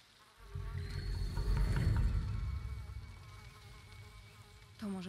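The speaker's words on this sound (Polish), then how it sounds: "Dwie muchy." Two flies buzz in the Shadow of the Tomb Raider video game, a close, steady insect drone that swells and then fades out.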